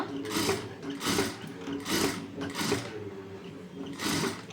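Sewing machine stitching a blouse, its motor whirring in several close, loud bursts with short pauses between runs, no voices.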